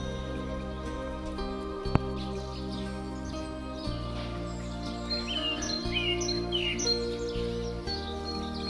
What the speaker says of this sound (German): Einfach herrlich, der Gesang der Vögel.